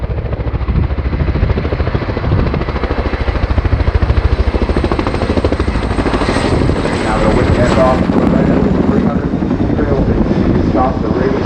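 A large contra-rotating helicopter at a RIAT 2019 air show flying display, its rotors producing a loud, continuous rhythmic thudding throb that swells slightly as it manoeuvres.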